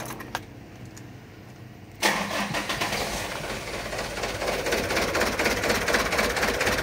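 A car engine cranks and catches abruptly after a quiet stretch, then settles into a loud, steady idle close by during an alternator check.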